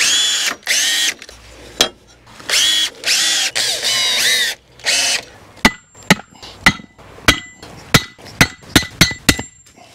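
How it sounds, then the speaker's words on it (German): Power drill driving screws through gate hinge straps into a picket fence: long whirring runs of the drill, then a quick series of sharp knocks and short bursts, close and loud with no talk. "lasse die Öse hier so einen Fingerbreit abstehen und schraube es dann fest"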